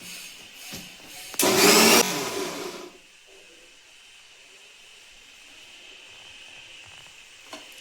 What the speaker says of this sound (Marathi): आता थोडंसं पाणी टाकून आपण बारीक वाटून घेणार.